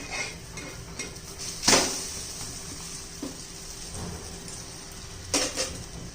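A spatula flips and stirs a cheese bread omelette in a pan. The scrapes and knocks come up close, with a few sharper clacks and a faint sizzle running underneath.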